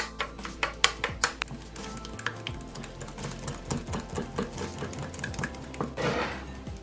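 Yogurt, tomato paste and olive oil being stirred together in a bowl for homemade oven kebab, with quick repeated utensil taps and clinks against the bowl, close and fairly quiet, then a brief wetter scraping swirl near the end.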